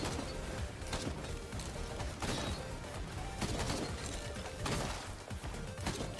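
Lights Out ability shots in Risk of Rain 2 fire amid a chaotic fight, several sharp blasts and crashing impacts spaced through a dense, noisy wash of combat sound.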